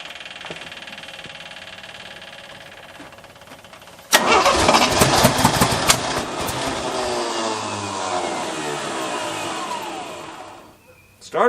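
Jeep CJ5 rock crawler cranking on its starter, a sudden loud rhythmic churning that holds steady for about six seconds before cutting off, following a quieter stretch with faint background noise.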